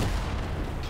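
A cannon fires in Garry's Mod, giving a brief, muffled boom with a rumbling low-end tail that fades within a second, fairly quiet overall.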